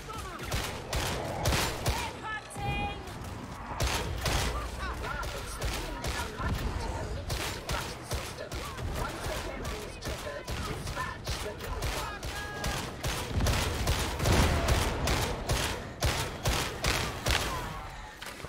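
Sniper gunfire in Warhammer 40,000: Darktide on Damnation difficulty rings out as a dense, rapid string of loud shots, one after another with little gap, over a constant battle din.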